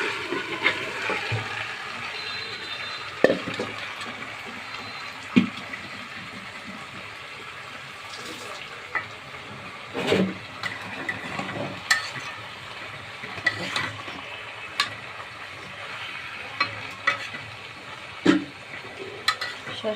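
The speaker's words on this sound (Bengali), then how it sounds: "আমি শাকগুলো এখন দিয়ে দিব।" Mustard greens tipped into fried masala and stirred, a quiet sizzle under scraping and scattered sharp clinks of a utensil against the pot, spread over a long stretch with no speech.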